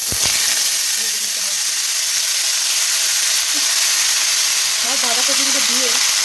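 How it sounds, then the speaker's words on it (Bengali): Cabbage frying in hot white oil with a little mustard oil, giving a loud, even hiss and sizzle throughout, while a voice speaks briefly over it near the end. "যতক্ষণ না একটু বাঁধাকপিটা কমে আসছে ততক্ষণ ভালোভাবে একটু ভেজে নিতে হবে"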